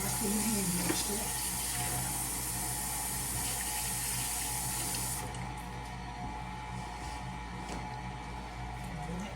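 Kitchen tap running while hands are washed during homemade fondant making, a steady close hiss of water that eases off after a few seconds, with talk throughout.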